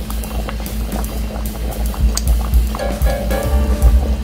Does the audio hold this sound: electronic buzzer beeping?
no